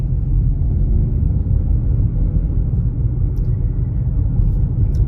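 A 2023 Mazda CX-50 driving, with a steady low engine and road rumble heard from inside the cabin and no distinct shift break standing out.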